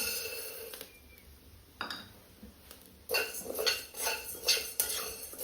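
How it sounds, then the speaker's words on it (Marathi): Dry sabudana (tapioca pearls) being roasted in a hot pan, with a spoon scraping and clinking against the metal; quiet at first, then busier scraping and light rattling from about three seconds on, close and alone. "साबुदाणा हलकासा लाल होईपर्यंत मस्त असा भाजून घे"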